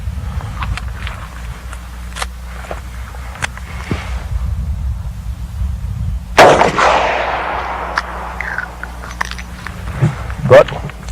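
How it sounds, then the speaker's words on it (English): A single loud gunshot from a .38 Super Vel pistol loaded with 110 grain jacketed hollow point rounds, fired into a car door, rings out midway amid a steady engine-like hum and a few faint knocks, with a voice talking. "Next we'll try a 110 grain jacketed hollow point 38 Supervel."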